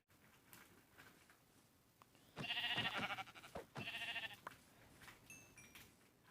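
Minecraft sheep give two loud, close bleats in a row, each about a second long, with quiet game ambience before and after.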